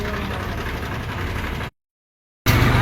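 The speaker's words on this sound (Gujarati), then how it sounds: "જંગલમાં ટ્રેક્ટર અવાજ" A tractor engine runs with a steady, low, knocking rumble in a dark forest at night, close and continuous, cutting out briefly before resuming.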